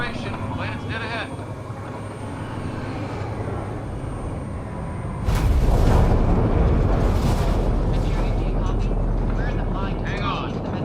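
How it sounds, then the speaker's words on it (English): A spaceship makes its atmospheric entry in the video game Mass Effect Andromeda, a low engine rumble under speech that swells suddenly into a loud, roaring, turbulent blast and then holds steady. "Initiating atmospheric entry."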